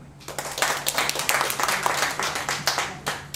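Applause at a Qinqiang opera discipleship ceremony, as a crowd claps steadily and briskly for about three seconds, loud and close, with no talk over it.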